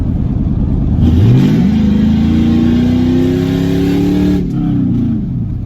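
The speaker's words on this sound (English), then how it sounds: "make a little hit on this bridge so y'all can hear the exhaust" A small-block V8 truck engine with electric exhaust cutouts roars as it revs up on a bridge and holds a deep, rumbling exhaust note, loud and close, then eases off near the end.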